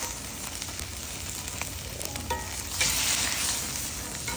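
Steak sears in a very hot cast iron skillet, reverse-seared, giving a continuous close sizzle and crackle that swells louder toward the end, with no voices.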